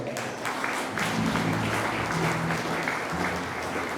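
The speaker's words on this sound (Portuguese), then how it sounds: "Aplauda Jesus nessa manhã" A church congregation claps together during a morning service, a dense, steady round of applause held for several seconds, with a voice speaking faintly underneath.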